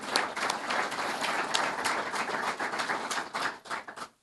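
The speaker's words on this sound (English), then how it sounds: "Now that everyone's applauded" Audience applause fills the room at a 2024 meet-the-candidates event at Jefferson College, a steady patter of many hands clapping that thins and tapers off near the end.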